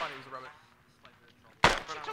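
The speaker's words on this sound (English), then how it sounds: "Don't mind the gunshots." A single loud gunshot from the military shooter ArmA, a sharp broadband crack after a stretch of quieter talk and faint background noise, with a brief decaying tail.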